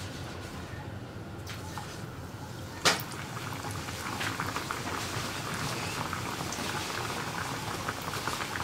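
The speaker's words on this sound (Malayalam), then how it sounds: "ബ്രെഡ് പക്കോട അടുത്ത സൈഡിലേക്ക് തിരിച്ചിട്ട് ഈ സൈഡും ഒന്ന് ഫ്രൈ ആയി വരുന്നത് വരെ കുക്ക് ചെയ്തെടുക്കുക" Bread pakora frying in hot oil, a steady bubbling hiss with one sharp knock early on, fairly faint and continuous.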